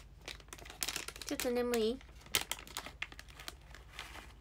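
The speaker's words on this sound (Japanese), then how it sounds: "これだよ、ラムネのガサガサの音だよ。" Crinkly plastic rustling of a ramune candy package, close and repeated in scattered bursts through the clip, with someone talking sleepily over it.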